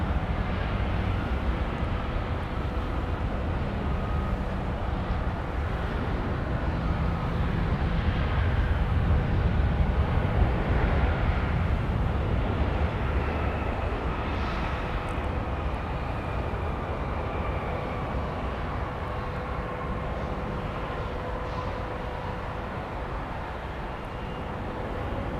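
A Frontier Airlines jet from Denver, nicknamed Betty the Bluebird, arrives at Minneapolis–St. Paul airport with a continuous broad engine roar that swells gently and then holds steady.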